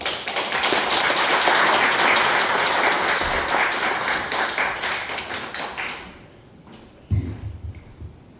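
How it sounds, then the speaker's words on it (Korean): A church audience applauds to welcome a professor coming up to give a lecture. A full, steady round of clapping runs for about six seconds, then drops away, leaving a couple of isolated thumps. "나오실 때 박수로 환영해 주시면 감사하겠습니다."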